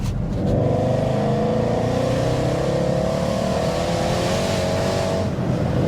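A 780 bhp Weistec-tuned Mercedes C63 engine revs hard and close in fourth gear, its pitch climbing steadily in one long, loud pull with no talking.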